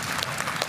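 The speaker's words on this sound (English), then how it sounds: "the crowd is so loud" Dense, loud crowd noise with cheering and clapping fills the hall at a live Clash of Clans war event, a steady roar with brief surges and no clear talk on top.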